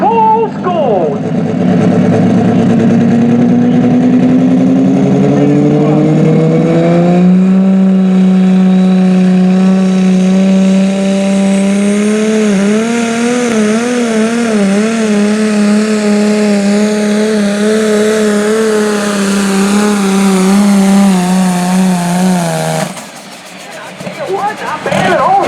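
Gasoline-powered pro stock pulling tractor roaring at full power during a pull, a loud sustained engine drone rising in pitch over about twenty seconds before cutting off, with crowd noise and commentary around it.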